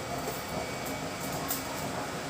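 An electric blower on a used-oil burning stove runs steadily, giving a faint, even whooshing hiss with no breaks.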